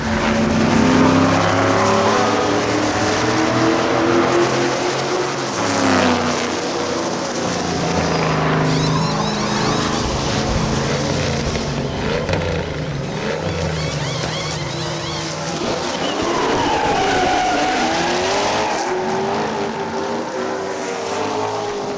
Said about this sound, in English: This is our first time at a NASCAR event, and the noise is amazing.